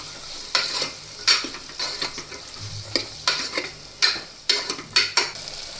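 Potatoes and fresh val beans fry in oil in a pan for a Gujarati vegetable dish, with a steady sizzle broken by regular scraping stirs of a spoon against the metal every second or so.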